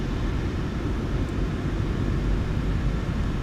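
Jet engines of a PMDG 737-900ER in a flight simulator hold a steady, dense roar at takeoff power, a constant loud rushing drone with no talk over it.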